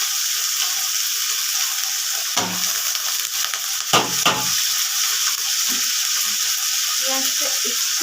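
Chopped onion fries in hot oil with garam masala, giving a loud steady sizzle with a few scraping stirs of a spatula partway through.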